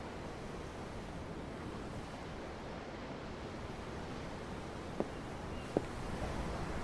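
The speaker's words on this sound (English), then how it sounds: "The waves. They help me think." Ocean waves washing steadily beside a ship at sea in Tales of Arise, a soft continuous surf wash with wind, broken by two faint clicks near the end.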